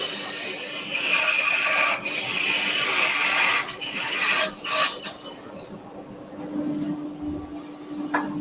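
An Axminster wood lathe spins as a tool cuts a groove into the turning wood, giving a raspy, scraping drone with a few brief breaks before it drops away to quieter workshop noise near the end.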